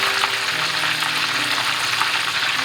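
Chicken lollipops fry in hot oil at about 350 Fahrenheit, giving a steady, close, bright sizzle with no pauses, alone without voices.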